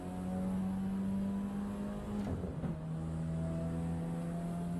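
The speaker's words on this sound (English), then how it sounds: "Sounds meaty, kind of what you'd expect from the engine as well." A turbocharged 175-horsepower car engine in the Assetto Corsa EVO racing game drones steadily and loudly at a constant pitch, with a brief shift or lift in the middle before it settles back into a lower drone.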